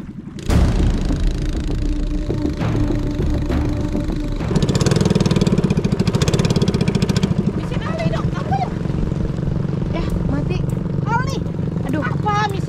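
A boat engine in Enggelam, Indonesia, chugs loudly and close, revving harder for a few seconds before settling, while people talk over it toward the end.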